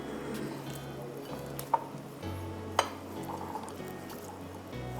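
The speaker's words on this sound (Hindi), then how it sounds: "इसको अच्छे से फिर मिक्स कर लेंगे।" Salt-and-pepper marinated prawns being mixed in a bowl, soft wet stirring and faint clinks against a low kitchen hum, with two sharper knocks partway through.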